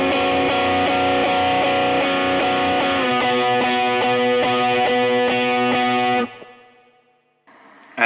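Electric guitar playing the closing part of a song with effects and distortion, sustained bent notes ringing into a rhythmic strummed passage that cuts off and fades, then a brief new attack at the end.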